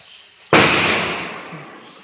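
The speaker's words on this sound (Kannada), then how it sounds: "ಎಲ್ಲ ಆ ಕಡೆಯೆಲ್ಲ ಪಟಾಕಿ ಓಡಿಸ್ತಿದ್ದಾರೆ" A single loud firecracker bursts during Diwali celebrations, a sharp sudden crack followed by a long, slowly fading crackling tail, heard alone without voices.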